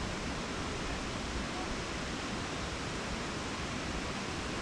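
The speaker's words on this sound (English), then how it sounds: "You can get two great views of this 120-foot waterfall." Triple Falls, a 120-foot waterfall in Dupont State Recreational Forest, North Carolina, roars as a steady, dense broadband rush of falling water, loud and unchanging throughout.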